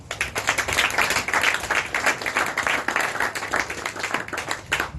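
A church congregation claps together in lively, sustained applause, dense and close, with a few voices mixed in.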